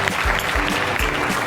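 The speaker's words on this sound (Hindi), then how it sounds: "14 तालियां बजाइए बहन के लिए" A group of students at a gurukul gives a short burst of dense, even applause for a fellow student, loud and close.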